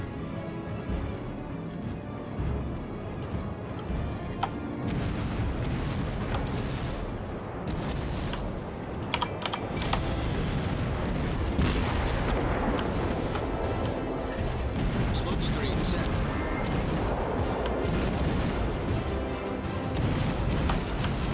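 Naval guns firing in the warship battle game World of Warships, a series of heavy booms and blasts scattered across a continuous dense rumble of gameplay, loud and close, with no talk.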